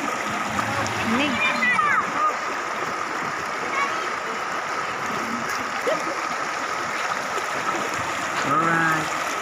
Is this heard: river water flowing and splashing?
yes